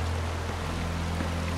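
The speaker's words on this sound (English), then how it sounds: "There's a waterfall there." A waterfall in the video game Far Cry 4, heard as a steady, fairly loud rushing wash of water with a low rumble underneath, continuous throughout.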